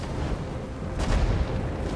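Flame cannon fire in the strategy video game Total War: Warhammer, a dense roaring rumble with a heavier deep boom swelling midway, sustained and loud with no talk.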